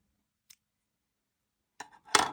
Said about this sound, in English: Then we are going to cut our elastic.